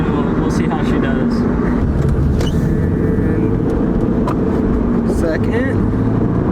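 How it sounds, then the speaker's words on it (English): A Corvette C5 with a manual gearbox on stock suspension, heard from inside as a steady, loud engine drone under heavy road and wind roar, with no clear rise in revs. "Oh, the sounds this car makes."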